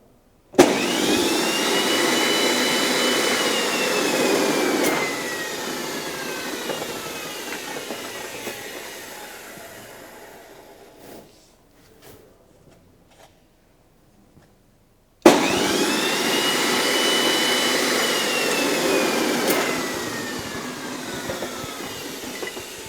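An automatic steel bar bender machine bends rebar for masonry frames, giving two long loud mechanical whirring runs with a gap of near silence between them and no talk.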